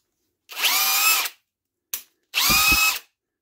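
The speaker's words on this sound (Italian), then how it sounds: "noterete che è un pochettino rumoroso" A Bosch Professional GSB 18V-150 C BITURBO cordless drill whirs loudly in two bursts of about a second each, with a brief blip between them, close up and without talk.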